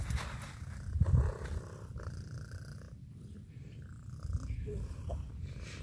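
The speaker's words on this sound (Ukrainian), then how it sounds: "Тобі холодно, красивий котик. А мурчить." Cold cat purring softly up close in a quiet outdoor spot, a low steady rumbling purr with a brief louder burst early on, faint and continuous throughout.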